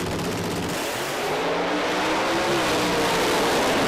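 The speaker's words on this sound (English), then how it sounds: "Rick Garrett with another nice, strong, consistent launch" An MSA Pro Mod drag racing car launching at a British Drag Racing Championship round, a loud continuous roaring engine blast that builds steadily over a few seconds.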